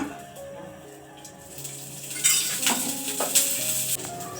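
Onions sizzling in a drop of oil in a pan while biryani is being prepared, a soft steady hiss with clinks of a stirring utensil against the pan.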